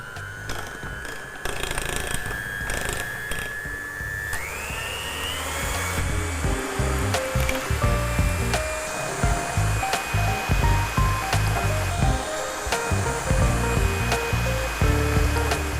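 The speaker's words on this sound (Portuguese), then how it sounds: "E eu vou usar aqui uma batedeira e vamos bater isso daqui." An electric hand mixer whips chilled cream for a sugar-free, gluten-free dessert, running as a continuous close whine whose pitch drops as the load thickens, with the beaters rattling in rhythm against the bowl.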